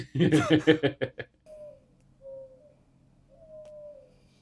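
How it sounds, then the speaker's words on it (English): Doves or pigeons cooing nearby: three soft, drawn-out coos spaced apart follow a short burst of talk, over a low steady hum. "Oh, I hate the sounds of those birds."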